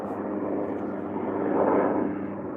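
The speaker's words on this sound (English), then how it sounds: "There is an aeroplane." An aeroplane passes overhead as a steady broad engine roar that swells a little toward the middle and stays loud throughout, with no talking.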